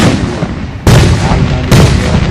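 Fireworks over Runyan Lake in Fenton, Michigan burst with two loud, sudden booms, each followed by a long rumbling echo over a steady background of crowd and outdoor noise.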